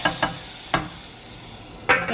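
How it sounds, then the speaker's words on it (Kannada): Onion fries in a hot oil tempering for a Tulu-style egg curry, a low steady sizzle broken by four sharp clicks of a spoon against the pan, with no voices. "ಒಗ್ಗರಣೆಗೆ ನೀರುಳ್ಳಿ ಫ್ರೈ ದೀಪೆ"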